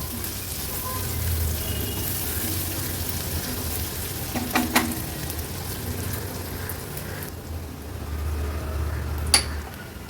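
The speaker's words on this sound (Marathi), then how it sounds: "आज कांदा पण छान तेलावर परतून घेऊया" Chopped onion sautéing in hot oil for a Maharashtrian vegetable dish, a steady close sizzle with a few soft clinks of a spoon stirring in the pan.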